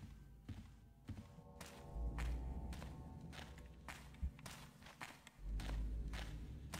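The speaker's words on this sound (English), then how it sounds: "that's why I heard the second set of footsteps" Footsteps in the video game Thief, a faint series of soft thuds and taps at an uneven walking pace, some steps landing heavier than others, over quiet background ambience.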